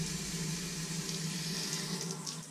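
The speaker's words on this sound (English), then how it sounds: "There's full maximum running water through there." Water runs steadily through an outboard motor during a freshwater flush, a soft continuous splashing hiss at low level, unbroken for the short span with no talk.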